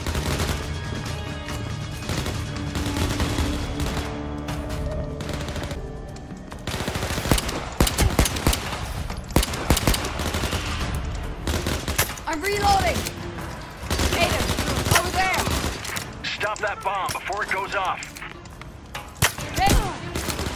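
Scrap cannon and other gunfire in the Overkill's The Walking Dead video game, dense rapid volleys of shots and thumps continuing throughout, loud, with voices talking over the combat.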